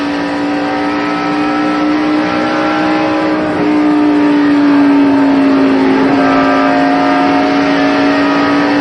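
A NASCAR stock car at full throttle down the front straightaway of the 1994 Brickyard 400 at Indianapolis, a loud, steady, high-pitched engine drone that holds on throughout and dips slightly in pitch partway through.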